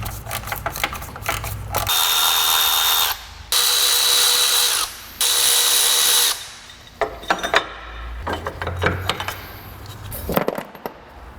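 Close-up cordless power tool bursts, three sustained whirring runs, then ratcheting and clanking as 10 mm bolts come out of a wiring harness across the front of a Mini Cooper N14 engine during bent-valve repair.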